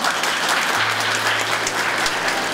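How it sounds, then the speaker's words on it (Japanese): A crowd at a food court eating contest applauds the team with steady, dense clapping that fills the whole moment, with no break. "さあ、それではチームイオンに大きな拍手を。"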